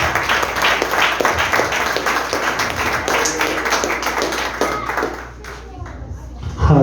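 A church congregation claps together at an evangelical service, a dense, steady patter of many hands filling the room before thinning out near the end.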